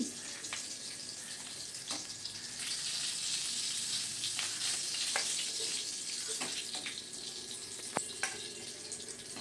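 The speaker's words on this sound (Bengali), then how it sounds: "আমরা পটলের চারপাশে ভালোভাবে ভেজে নেব" Pointed gourds frying in oil in a pan, a steady bright sizzling hiss with occasional crackles and a few soft clicks, close and even throughout, no talk.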